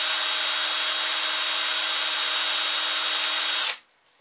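A power drill spins a wooden piece clamped in its chuck, giving a loud, steady motor whine that runs for several seconds and then cuts off abruptly, leaving near silence.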